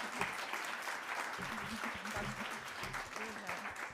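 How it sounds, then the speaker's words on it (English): Audience applause for a thesis presenter at a 3 Minute Thesis competition, a steady dense clapping wash that fills the whole clip at moderate loudness, with some speech mixed underneath. "Round of applause for Cassandra."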